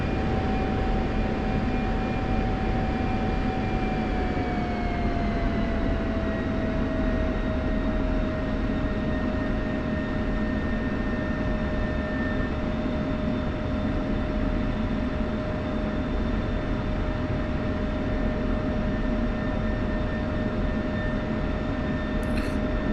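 F-16 jet engine in the DCS flight simulator game, a steady, loud, continuous roar with whining tones that dip slightly in pitch early on, then hold even throughout with no voices.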